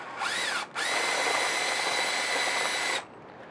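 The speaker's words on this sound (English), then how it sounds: "you just need a bit that's big enough to drill the head off this" A power drill whines in two bursts while drilling the heads off rivets: a short spin-up, a brief pause, then a steady high-pitched run of about two seconds before stopping.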